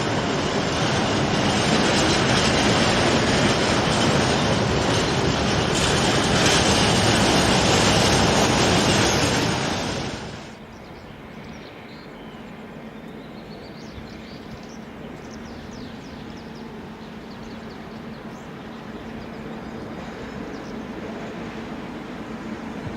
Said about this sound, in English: Freight liveried diesel 67534 trundles a rake of empty grain hoppers out of the departure sidings